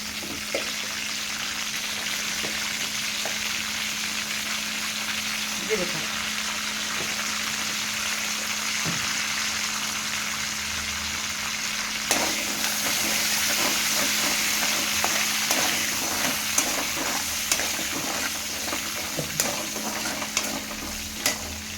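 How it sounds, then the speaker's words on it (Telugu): Curry leaves, mustard seeds and cumin frying in hot oil for an ivy gourd kurma: a continuous loud sizzle that grows busier midway, with scattered crackles, pops and spoon stirs, and no talking. "ఇదే నూనెలో కొంచెం కరివేపాకు వేసుకుందాం, కొంచెం ఆవాలు, జీలకర్ర, జీలకర్ర"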